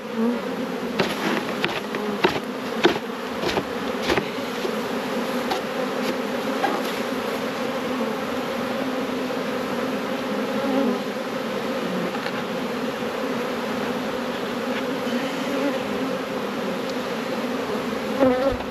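Honey bees buzzing inside a beehive box, a steady dense hum that continues throughout, with a few faint knocks and taps.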